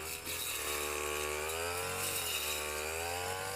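A brush cutter mowing weeds in an areca palm plantation runs steadily at close range, a loud continuous engine whine holding nearly constant pitch with slight dips, alone without talk.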